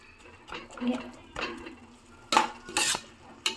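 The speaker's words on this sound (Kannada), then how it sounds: "ಅದಕ್ಕೊಂಚೂರು ಅರಿಶಿನ ಹಾಕ್ಕೊಂಡು ಲೈಕ್ ಚೆನ್ನಾಗಿ ಫ್ರೈ ಮಾಡ್ಕೊಬೇಕು" Onions with turmeric fry in a pan while a spoon stirs them, giving intermittent scraping and clinking strokes that come in short, loud bursts over a soft background.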